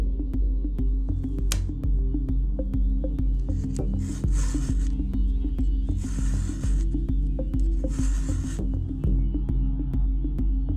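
A hand file sharpens a chainsaw chain's cutter teeth, with several slow rasping strokes every couple of seconds over a low, steady background hum and light metallic clicks.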